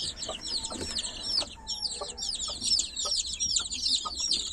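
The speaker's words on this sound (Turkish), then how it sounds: "Evet arkadaşlar civcivler burada." Dense high-pitched cheeping from many chicks fills the scene, with a hen's low clucks now and then underneath, close and continuous.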